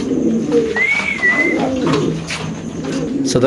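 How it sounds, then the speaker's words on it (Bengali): A pair of large pigeons kept for sale coo close by, with soft, rolling calls and a brief higher note. Some quiet talk can be heard under them. "এখানে আছে এক পেয়ার কবুতর খুব সুন্দর একদম ব্র্যান্ড নিউ কালেকশন একদম বিগ সাইজের"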